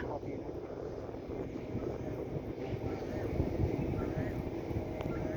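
A Thai-built RC F-16 model jet with a 90 mm ducted fan comes in to land at an RC airfield, its steady whooshing fan whine droning at moderate distance while people chat nearby.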